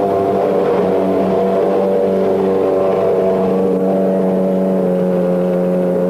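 A 1994 Benetton Formula One car's engine on a wet test track, a steady loud mechanical drone with sustained harmonic tones, continuous throughout with no talk.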